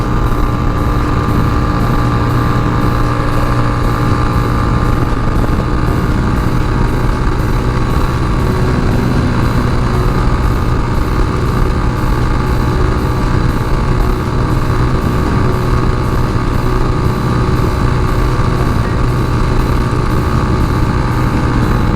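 A Tao Tao TBR7 motorcycle rides along a road, its engine holding a steady, loud, continuous drone with no breaks.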